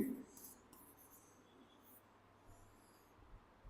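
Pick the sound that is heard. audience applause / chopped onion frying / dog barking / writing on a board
writing on a board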